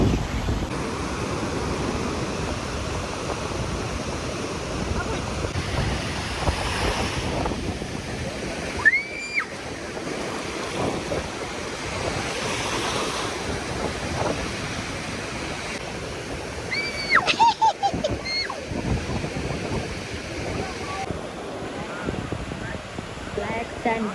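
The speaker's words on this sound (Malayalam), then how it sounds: "Black sand beach." Ocean waves wash onto a black sand beach at Varkala, a steady broadband surf roar filling the scene while people talk intermittently over it.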